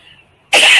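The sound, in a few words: woman coughing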